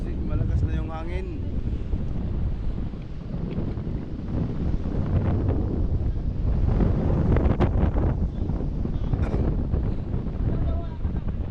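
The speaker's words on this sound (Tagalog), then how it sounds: "malakas na yung hangin." Strong wind buffets the microphone on a boat at sea, a loud continuous low rumble of gusts with water noise, with people talking over it throughout.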